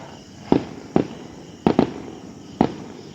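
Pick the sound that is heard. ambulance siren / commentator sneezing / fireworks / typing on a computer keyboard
fireworks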